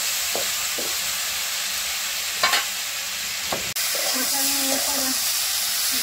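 Curry cooking in a pan, with potato and tomato in a pabda fish stew: a steady hiss of frying with a few stirring clatters and an abrupt click, then faint tonal sounds near the end.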